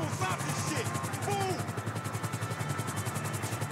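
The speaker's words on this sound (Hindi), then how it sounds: "और भी हेलीकॉप्टर आ गया शायद, और भी हेलीकॉप्टर आ गया यहाँ पे।" Helicopter in the video game GTA V, a steady rotor chop with regular pulsing thuds running through the whole stretch, moderately loud and close, with faint game sounds and speech-like noise mixed in.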